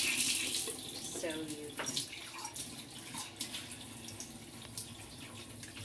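Kangen water pours into a container with a steady splashing trickle, loudest at the start and easing off, faint and close with a few drips.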